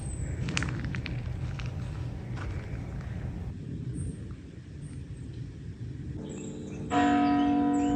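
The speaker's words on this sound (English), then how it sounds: "Finally, I saw the church tower of the old Radovljica town center, and church bells." Church bells ring from the old town tower of Radovljica, Slovenia, heard from a distance over a low outdoor rumble, growing clearer and more tonal near the end.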